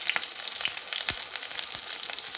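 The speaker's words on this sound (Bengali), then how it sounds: "তেল দিয়ে আমি এখানে পেঁয়াজ, কাঁচামরিচ দিয়ে দিচ্ছি।" Onion and green chilies hit hot soybean oil in a pan, giving a steady close crackling sizzle with scattered sharp pops throughout, no voices.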